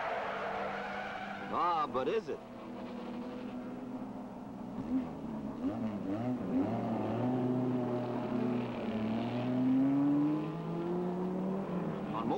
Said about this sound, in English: These cars are doing more than 130 miles per hour.